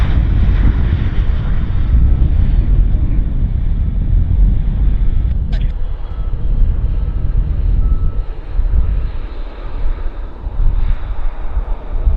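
An airplane landing at Vancouver Airport: a loud, continuous low roar of engine and rushing wind that holds steady for about twelve seconds, with no voices over it.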